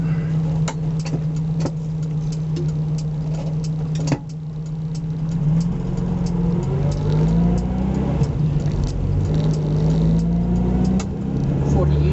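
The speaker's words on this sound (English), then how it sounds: "Let's go for a drive, eh?" A car pulls away with a steady engine hum that rises and shifts in pitch as it gathers speed, heard from close by and continuing throughout.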